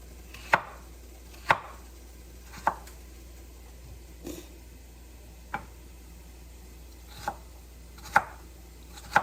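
Knife chops land on a cutting board one at a time, spaced about a second apart, sharp and close against a quiet background.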